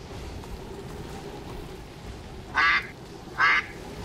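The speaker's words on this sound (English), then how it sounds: "You can't just make ducks appear constantly on the stream." Two short, clear duck quacks sound on a livestream, spaced under a second apart over a steady low background hum, with no talk.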